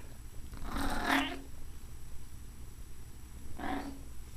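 A cat gives two soft, quiet meows, one early and one near the end, with a pause between them.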